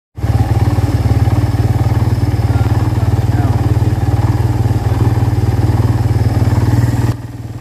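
Kawasaki Barako 2 motorcycle, a 2023 model needing an overhaul, runs at a steady idle with a loud, close, rapid engine chug and mechanical clatter throughout before it drops off at the end.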